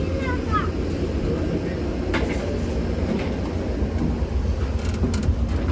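An Amtrak passenger train heading toward Red Wing, Minnesota, gives a low, steady rumble and rolling rail noise heard close by, with a voice speaking over it and a few brief clanks.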